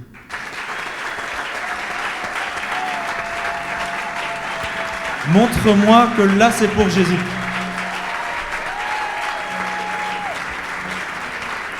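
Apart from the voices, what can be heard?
church congregation applause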